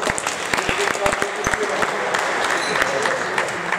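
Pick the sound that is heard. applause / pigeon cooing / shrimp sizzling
applause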